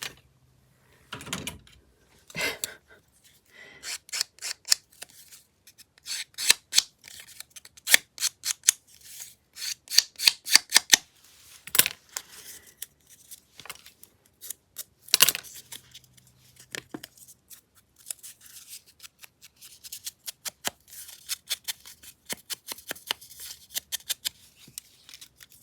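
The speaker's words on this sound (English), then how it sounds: "so I'm just going to have to use scissors." Scissors snip repeatedly, close by and crisp, in quick irregular bursts of cuts with short pauses, roughing up material for a 1955 full-size flip flop journal.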